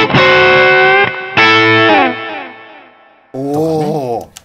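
An electric guitar played through a JYUGEHM STOMPS distortion pedal, with two loud sustained distorted chords that ring out and decay, then a shorter wavering phrase with bent notes. The tone is bright and saturated and sounds close.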